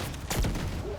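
A grenade launcher explosion in a video game: a single sharp blast with a short booming tail, heard alone and close.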